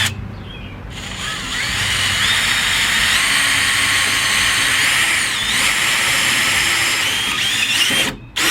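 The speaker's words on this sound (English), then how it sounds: "we're going to go ahead and drill our holes next" Power drill with a 1/4 inch bit boring holes while fitting new LS hood hinges on a car, a loud continuous whirring grind that holds steady for several seconds before cutting off.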